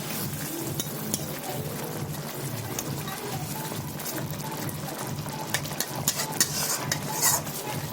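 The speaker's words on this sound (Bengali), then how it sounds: "মাছটা আমি তরকারিতে দিয়ে দিচ্ছি" Pomfret fish pieces go into a simmering curry in a pan and are stirred in, with a continuous wet sizzle, soft bubbling and occasional clinks of a spoon against the pan, no voices.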